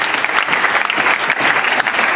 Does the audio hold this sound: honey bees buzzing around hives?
no